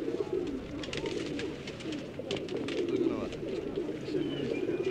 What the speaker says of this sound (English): Buyers and sellers alike handle the birds with pride, heartbroken to let one go, but eager to get home with a new example.